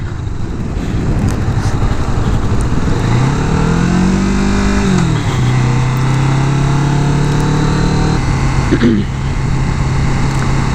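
A 2017 Kawasaki Vulcan S motorcycle rides along, its engine note climbing and dropping as gears shift, with steady road and wind noise throughout.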